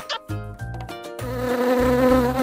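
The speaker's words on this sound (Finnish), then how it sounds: "Ja Ampiainen tykkää siitepölystä" Steady buzzing drone from a toy wasp in a doll feeding play set, starting after a few short thumps and growing louder, continuing alone for over a second.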